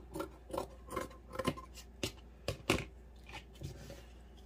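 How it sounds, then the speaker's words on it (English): Scissors trimming a fabric circle for a handmade Christmas tree gnome, a series of close, crisp snipping and rasping cuts in an irregular rhythm, about a dozen strokes with brief pauses between. "So I'm just going to kind of trim up my circle here a little bit."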